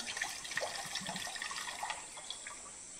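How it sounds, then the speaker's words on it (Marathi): Water trickles and splashes out of a freshly cracked hard coconut, a faint, close, uneven pouring with small drips and gurgles and no talk. "नारळ एकदम कडक हा. नारळ कडकच असतो हे बघा पाणी बघा"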